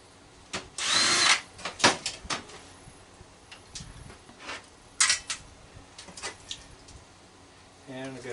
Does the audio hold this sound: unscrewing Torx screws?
yes